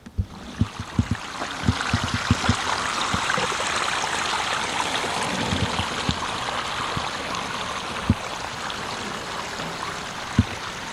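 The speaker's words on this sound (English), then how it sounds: "I thought the water was going to come straight down the middle here, but Boley left a little space over there" Water from a newly switched-on waterfall on a 12 x 30 backyard pond spills and splashes in a steady, full rush, with scattered close knocks and taps over it.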